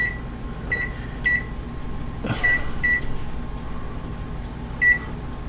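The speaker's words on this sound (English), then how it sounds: "when the timer goes off, we're going to take the cornbread out" Kitchen timer sounding while cast iron skillet cornbread bakes in the oven: short, bright electronic beeps in small spaced groups, near and clear over a low steady hum, no talking.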